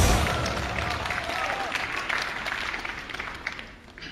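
A studio audience on a Chinese television confession show applauds to welcome a contestant onto the stage. The clapping is dense and continuous and gradually fades toward the end.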